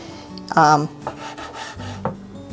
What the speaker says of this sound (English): I'm going to cut these into about 1/4-inch slices